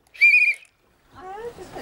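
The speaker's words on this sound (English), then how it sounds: "Go on, blow on your whistle, Freddie." A single short, shrill whistle blast, followed after a pause by a wavering, warbling tone with some breathy noise.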